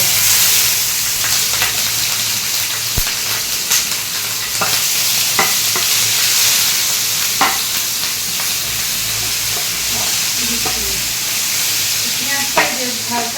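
Sliced onion and slit green chillies frying in hot oil for biryani, a loud steady sizzle filling the clip, with occasional stirring scrapes and pops close by.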